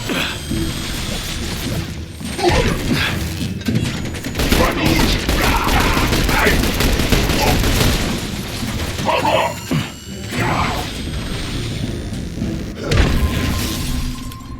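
Grenade blasts and bursts of gunfire in the third-person shooter The Bureau: XCOM Declassified, with sharp crashes and rattling shots filling the whole stretch, loud and dense, and brief voices shouting among the combat noise.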